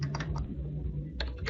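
Code being typed on a computer keyboard, with quick bursts of close, crisp key clicks separated by a short pause, quiet and alone over a low hum.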